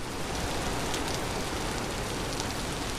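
Steady heavy rain falling in the survival game Vintage Story, a dense continuous hiss of drops on surfaces, loud and unbroken with no voices.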